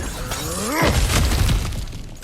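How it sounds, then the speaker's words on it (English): Breakable objects shatter in God of War Ragnarök as the character smashes through them. A loud crash of breaking debris follows a rising whoosh, with clatter trailing off afterward. "Ah, back to smashing through things for fun and profit."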